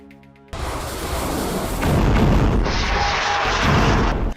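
Heavy artillery and rocket fire launched by Hezbollah toward northern Israel, a sudden loud boom that swells into a sustained roaring rumble before cutting off.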